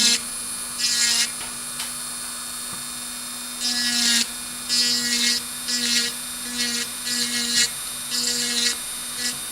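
An electric nail drill with ceramic bits filing fingernails, whining in a high steady tone that surges in repeated short bursts as it presses against the nail, close and alone.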